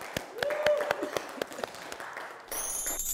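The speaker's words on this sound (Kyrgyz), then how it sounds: "Кол чабуулар." An audience at a family game show claps, a brief scatter of sharp hand claps that thins out, heard alongside a voice and followed by a bright electronic tone.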